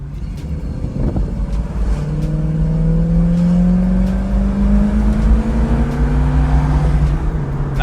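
A 1968 Camaro with a 4-barrel carburetor accelerates hard to 50 mph, its engine note climbing steadily through the gears with rising, droning pitch, heard from inside the car with no talking.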